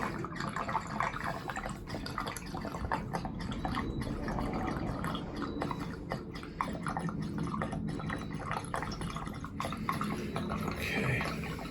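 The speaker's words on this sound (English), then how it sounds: "Let's just open up this valve right here. Drain down this boiler." Water runs and trickles out of an opened drain valve on a Weil McLain CGa boiler, a steady close splashing flow with scattered drips and small clanks throughout.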